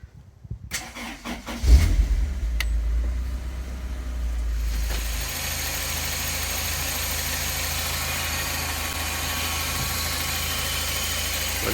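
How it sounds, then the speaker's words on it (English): A Toyota Celica Mk6 1.8 engine cranks and catches, then settles into a steady, even idle that drones on close by without any talk. "put your handbrake on and start the engine"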